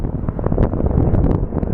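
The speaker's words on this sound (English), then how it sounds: "Dear wind, stop." Wind buffets the microphone outdoors at Sky Harbor Airport, a steady broadband rumble with gusty low-end thumps running unbroken and close throughout, with no voices.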